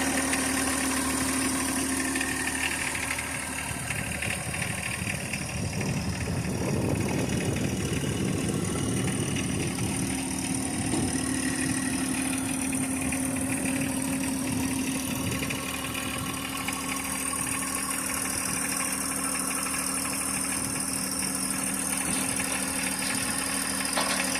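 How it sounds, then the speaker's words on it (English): A tractor engine idles steadily nearby with a low, rumbling throb that holds throughout, swelling slightly in the middle before settling back. "this tractor's narrow enough it'll go up there just fine"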